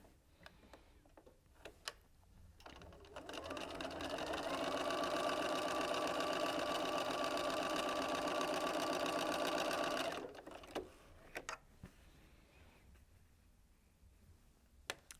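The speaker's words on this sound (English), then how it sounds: "pop it under the machine and do a 1/4 inch seam" A sewing machine runs steadily for about six seconds while stitching a quarter-inch seam on fat quarter fabric for a baby play mat. Quiet clicks and handling noises come before and after.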